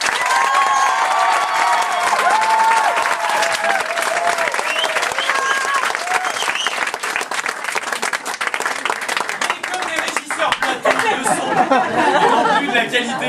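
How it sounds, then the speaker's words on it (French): An audience at a one-woman show gives sustained, dense applause for the performer Nathalie, with crowd chatter and a few cheers mixed in throughout. "Je vous demande d'applaudir Nathalie."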